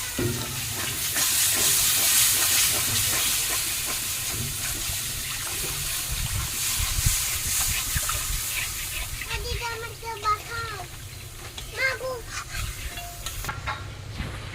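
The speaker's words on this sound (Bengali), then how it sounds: "এখন অল্প অল্প করে নারিকেলের জলটা দেবো আর নাড়বো" Coconut water poured a little at a time into a spice paste frying in oil, stirred for a giant freshwater prawn and coconut dish; a loud steady hiss and sizzle runs throughout, with scraping stirs and bubbling pops growing toward the end.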